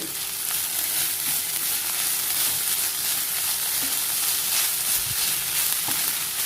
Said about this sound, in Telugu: ఇప్పుడు దీన్నంతా ఒకసారి కలుపుకోవాలి.